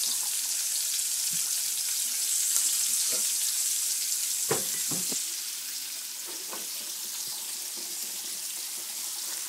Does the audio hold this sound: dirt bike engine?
no